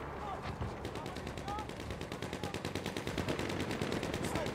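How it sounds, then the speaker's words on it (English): Enemy machine gun fire in the video game Battlefield 1, a steady rapid rhythm of shots at moderate distance that carries on throughout the short stretch. "Enemy machine gun over there!"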